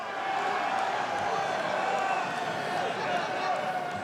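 Alumni in a commencement audience clap together in a steady, dense wash of applause that fills the space, with scattered voices and cheering mixed in throughout.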